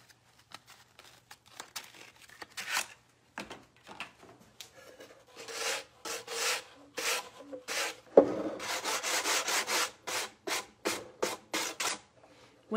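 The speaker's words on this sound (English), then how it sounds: "I'm going to use a sanding block." A fine sanding block rubbed by hand over milk-painted wood, short scratchy strokes in uneven bursts, then a faster run of regular back-and-forth passes, close and fairly quiet.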